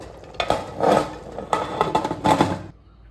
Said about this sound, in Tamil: நம்ம குக்கர் மூடி போட்டுடலாம்.